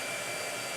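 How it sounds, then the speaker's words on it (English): Hair dryer blowing on a watercolor painting, a steady close broadband whoosh of air that holds constant throughout with no talking. "I'm gonna blow dry."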